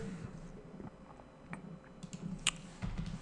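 Faint keyboard typing while entering JavaScript code, with scattered soft key taps over a quiet room hum and a slightly sharper click or two toward the end.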